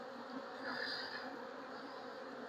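Honeybees hum steadily at an opened hive holding about 20,000 bees, with seven full frames of brood. The drone is close and even, swelling slightly once.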